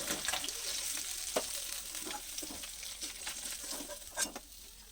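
Small fish fry in hot oil in a wok, a soft, continuous sizzle with occasional stirring scrapes, fairly quiet and close.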